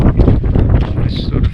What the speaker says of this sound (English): But strong looking wind up here.